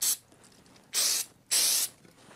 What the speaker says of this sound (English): And we're going to give this a spray.